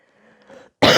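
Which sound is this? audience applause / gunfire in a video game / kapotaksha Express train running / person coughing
person coughing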